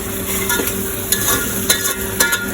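Onion and tomato fry in a pan for prawn biryani, giving a constant close sizzle. A spatula scrapes and taps against the pan every half second or so, and no one speaks.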